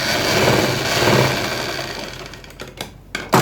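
A sewing machine stitches a salwar seam, running steadily and close for most of the moment before slowing into a few short separate bursts at the end.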